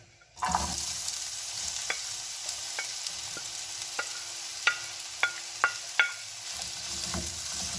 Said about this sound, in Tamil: வெங்காயம் பச்சை மிளகாய் கருவேப்பிலை சேர்த்து வதக்கி எடுத்துக்கொள்வோம்